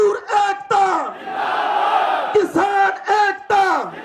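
At a farmers' protest in Delhi, a crowd shouts slogans in unison, with loud, close, rhythmic call-and-response chanting. Voices rise and fall, and a sustained roar of many voices fills the middle.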